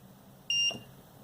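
A Fimi X8 Mini drone controller powering on gives a single short, high electronic beep in a quiet room, lasting about a fifth of a second.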